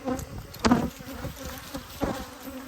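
Honeybees buzz around an opened backyard hive during inspection, a close continuous hum with louder passes as single bees fly near, and a few soft knocks of handling.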